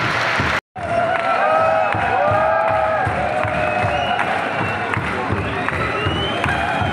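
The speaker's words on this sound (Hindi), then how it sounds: "जोरदार ताली बजाएगी।" Audience applause and cheering ring out in a large hall after a Naga warriors' dance performance on stage at the National Youth Festival in Delhi, a dense, steady wall of clapping that continues without pause.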